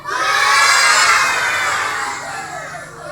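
A group of kindergarten children at an Indonesian school story session shout together in a loud, sustained crowd-like cry imitating a cow's moo, fading slightly toward the end.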